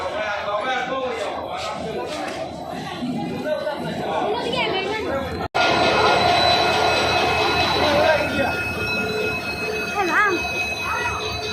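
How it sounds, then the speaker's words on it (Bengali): A train pulls into a station while a crowd chatters loudly nearby. Rumbling wheels and high metallic squeals run beneath the voices, and the noise grows louder after a brief break. "বন্ধুগণ ট্রেন আই গেছে"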